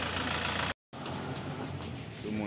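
A motorbike engine idles close by, a steady low rumble that runs throughout, broken by a brief gap of silence early on before resuming.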